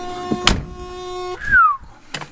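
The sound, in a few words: door of a 1987 Porsche Carrera 3.2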